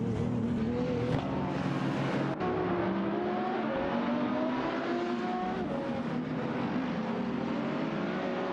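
Race cars in a racing game, a Subaru Impreza GT300 and a Porsche 911 997 GT3 RSR, roar continuously with loud revving engines that rise and shift pitch through gear changes, dense and close throughout.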